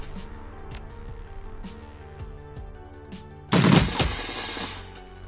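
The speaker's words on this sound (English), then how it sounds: "I'll just keep pinging shots ineffectually off it." Gunfire in the Shadowrun Dragonfall video game: a string of evenly spaced single shots pops along at a steady rhythm, then a loud, dense burst of rapid fire erupts near the end and fades away.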